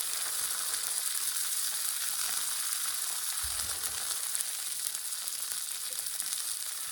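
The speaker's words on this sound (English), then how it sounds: "Definitely wanna sear your tortilla just like that." Steady hot-pan sizzle of a tortilla searing for birria tacos, a constant crackling hiss with a brief low thump partway through.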